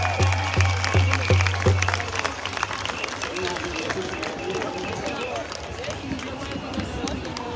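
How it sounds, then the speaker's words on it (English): A crowd at an outdoor rally in Melbourne claps and cheers, a rough spread of applause mixed with crowd noise and chatter, under rhythmic low thumps at the start and talk throughout. "Give him a round of applause."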